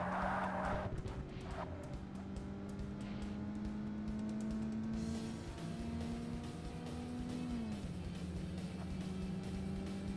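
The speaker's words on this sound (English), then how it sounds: "So I'm kind of interested to see how fast this car is going to go down the straight." Renault Clio race car in the racing game Forza Motorsport, its engine droning steadily as it accelerates down a straight, pitch rising and shifting, with brief tire noise near the start.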